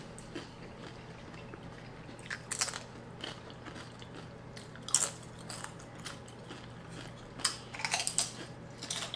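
Guacamole being chewed in a hotel room, soft wet crunches and bites at close range in scattered bursts over a low steady hum, with no talking.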